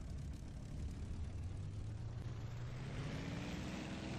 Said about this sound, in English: Let's taxi off the runway.